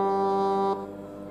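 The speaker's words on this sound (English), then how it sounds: "So this is what Ponder sounds like." The Ponder goat horn in Minecraft sounds once, a steady horn tone rich in harmonics that holds for under a second and then cuts off, leaving a faint tail.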